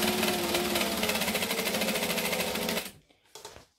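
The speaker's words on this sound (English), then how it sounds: "I'm going to chain stitch to minimize my bobbin wastage, which I'm sure is coming." A sewing machine chain-stitches fabric pieces of a backpack, running loud and steady for about three seconds, then stopping, followed by a brief short burst.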